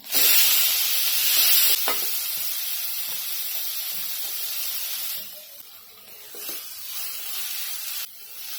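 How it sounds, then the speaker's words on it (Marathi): Onion frying in melted butter with cumin and a pinch of asafoetida, a loud hissing sizzle that starts intense and gradually softens, with occasional stirring scrapes close by and no speech. "इथे कांदा ना छान गोल्डन ब्राऊन करून घ्यायचंय"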